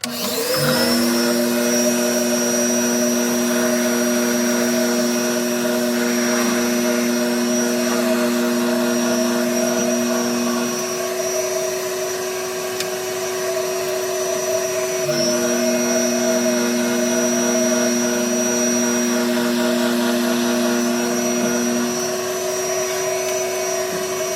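A drill press bores a ring finger hole with a one-inch bit in a Roto Grip Tour Dynam-X bowling ball, a steady loud whine with tonal hum running nearly unbroken, a brief dip midway, no talk.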